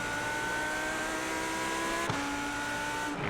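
A Lamborghini GT3 race car's engine drones at Spa in iRacing, a steady tonal whine that drops sharply in pitch partway through as the car shifts or lifts off the throttle.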